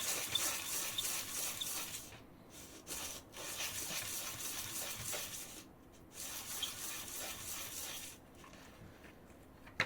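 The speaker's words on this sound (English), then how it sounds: "I'm going to do just a couple of laps on the finer sandpaper, just so I can remove the burr and the roughness." A balisong bushing lapped by hand on fine sandpaper, a close, steady gritty rubbing in repeated strokes with a few short pauses, and no talking.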